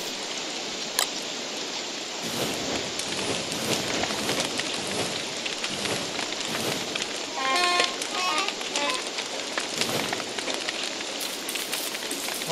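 Steady rain in the video game Don't Starve hisses and patters throughout, a dense wash of drops with a few brighter splashes and faint crackling mixed in.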